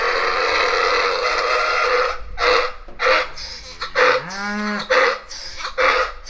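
A banded young bull, now a steer, lets out a few loud, drawn-out moos on a farm with goats, alpacas and cows nearby, the calls rising and breaking over about four seconds close by.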